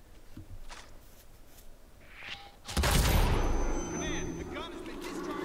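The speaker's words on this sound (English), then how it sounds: "the gun has been discharged in the vicinity" Gunshots in the video game Hitman Absolution: a sudden loud blast erupts midway, followed by a sustained roar of gunfire and echoing debris, after a quieter stretch of faint ambience.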